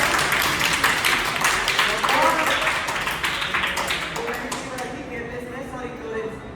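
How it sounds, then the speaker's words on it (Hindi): Students at a school fire-fighting awareness session clap together, a dense patter of applause that starts strong and gradually thins and fades. "तो सर के एक बार तालियां बजाना"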